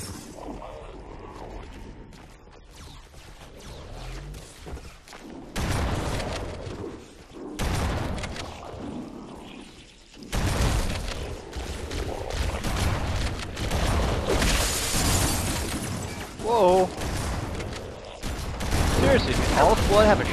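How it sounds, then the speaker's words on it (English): Shotgun blasts and other gunfire from the video game Halo Anniversary come in loud bursts between stretches of someone talking, with booms and mechanical clatter mixed in. "Shotgun all of a sudden?"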